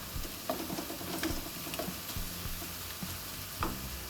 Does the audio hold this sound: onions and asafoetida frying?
yes